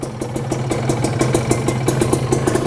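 A Serpico motorcycle engine idles just after starting, a steady close-up putter with an even, rapid firing rhythm and a slight mechanical tick, heard alone without talk.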